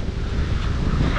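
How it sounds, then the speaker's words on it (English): Steady wind buffets the microphone on a trail in Bruges, a broad continuous roar with gusty low rumbling throughout. "it's quite windy"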